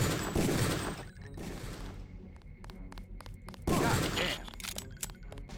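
Gunfire in the Deus Ex video game comes in two loud bursts of shots separated by a quieter stretch of sharp rapid clicks and mechanical ticks, close and punchy.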